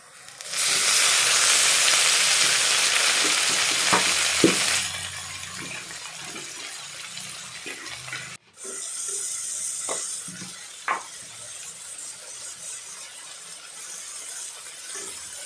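Fenugreek greens hit hot oil with frying onions in a loud burst of sizzling that gradually settles into a softer, steady fry, with a few clinks of stirring.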